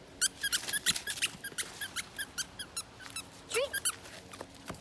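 A dog's squeaky toy squeaks repeatedly in quick rhythmic bursts at a dog park, fairly close, with a brief spoken word among them.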